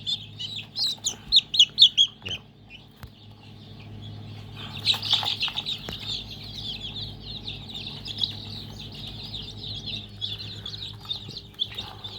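A flock of free-range Thai native chickens clucking while chicks peep high and shrill in the rainy season, with a busy run of calls early on and steady chirping after.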